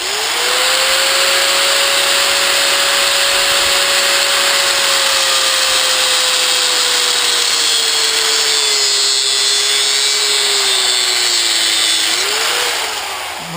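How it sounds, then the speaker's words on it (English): A die grinder cuts open a shiny chrome-colored faucet hose fitting in a backyard during scrap metal processing, giving a loud, steady high-pitched whine that holds for about twelve seconds, dips slightly in pitch under load, then winds down. "I'm going to take this die grinder and I'm going to cut this thing open here."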